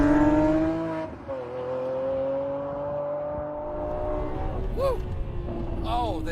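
An Italian supercar's V12 revs hard with rising and falling engine tones and bursts of exhaust crackle toward the end, loud and close, with a voice talking over it.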